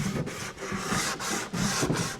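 Hand sanding over cracks in the hull of a 40-year-old Bass Tracker boat, loud, close back-and-forth rasping strokes in a steady rhythm with brief gaps between passes.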